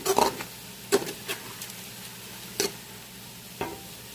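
Sharp scraping clinks of a spoon stirring whole spices frying in a pot for chicken biryani, a few irregular strokes over a soft steady sizzle, close and fairly quiet.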